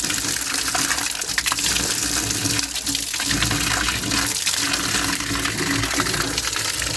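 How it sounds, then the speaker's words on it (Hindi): Water pours steadily from an ancient village spring where people fill their vessels, a loud, continuous gushing rush close by that never lets up. "यहाँ पे एक पौराणिक धारा दिखाई दे रहा है, जहाँ पे कि लोग पानी भरते हैं।"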